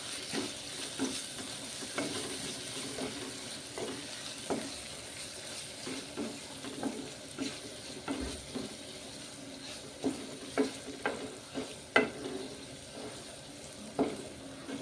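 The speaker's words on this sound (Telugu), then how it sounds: "దీన్ని కలుపుదాం, ఒకసారి మంచిగా కలుపుదాం." Greens with moong dal cook in a pan under a soft, continuous sizzle, while a spoon stirs them in repeated scraping and knocking strokes, some louder taps landing near the end.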